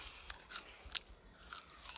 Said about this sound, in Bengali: এখন আপেল খাচ্ছি